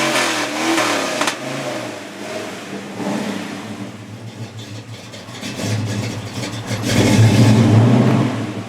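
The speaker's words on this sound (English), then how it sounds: "Nice exhaust, listen to that." A chopped Volkswagen's engine idles with a deep exhaust burble, then revs up loudly near the end, the low growl swelling close by.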